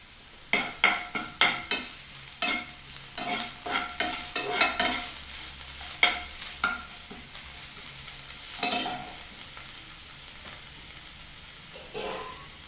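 Ginger garlic paste frying in a pan, with repeated sharp stirring scrapes and utensil clinks over a soft, steady sizzle, then a quieter stretch near the end.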